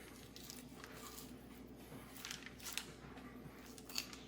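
A knife works through a deer carcass during home butchering, opening it up to expose a large muscle: quiet, soft slicing and squishing with a few sharper clicks, close and faint, with no talking.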